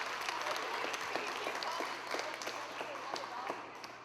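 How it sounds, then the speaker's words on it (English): A school audience applauds at a time capsule reveal. The clapping is dense, steady and moderately distant, with scattered individual claps standing out and a faint murmur of voices underneath. "Give her a big round of applause."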